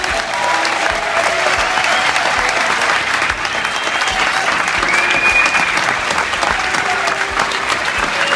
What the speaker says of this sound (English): could you please give a round of applause to Dr.